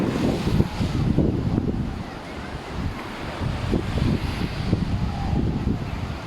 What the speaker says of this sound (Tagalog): Solid ang hangin dito